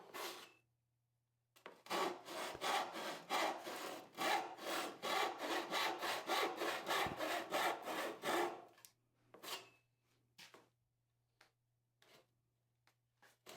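A hand saw cuts through a wooden board during a hand-tool saw bench build, with about seven seconds of rhythmic back-and-forth strokes, close and clear, followed by a few scattered short rasping pulls and taps.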